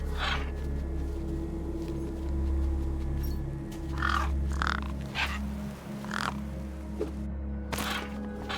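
Several scattered crow caws ring out at irregular intervals over a continuous low droning ambience, as crows hover around a corpse in the video game Beyond a Steel Sky.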